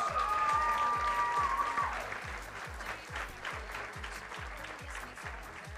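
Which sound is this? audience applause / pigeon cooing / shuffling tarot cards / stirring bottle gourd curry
audience applause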